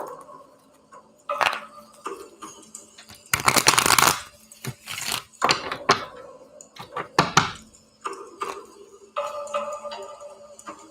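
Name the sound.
shuffling a tarot card deck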